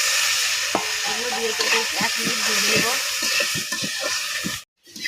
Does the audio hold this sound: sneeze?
no